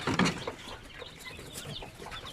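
Native Basilan and Zamboanga chickens cluck briefly nearby, with a louder burst at the start followed by faint, scattered clucks and chirps from the flock and chicks.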